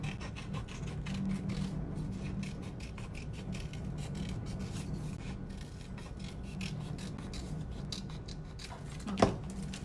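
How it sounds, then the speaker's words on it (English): Scissors cut through card for a handmade Christmas snow globe card, a steady run of quick, close rasping snips for several seconds, ending with one louder clipped snap. "now just take your scissors and cut it"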